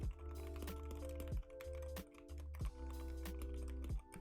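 Rapid clacking of keys on a computer keyboard as a semi-pro gamer types, close and crisp, with short bursts of presses separated by brief pauses and faint thumps.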